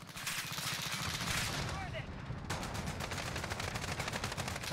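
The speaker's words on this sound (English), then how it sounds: "I hear him shooting at me" Continuous gunfire in the shooter game Modern Warfare, a dense stream of rapid automatic shots layered over a constant noisy mix for the full clip, with no clear break and no talking.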